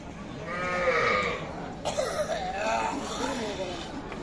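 A three-month-old crossbred heifer calf calls at a traditional rural cattle market, its wavering, bleat-like bawls rising over crowd noise while people talk nearby.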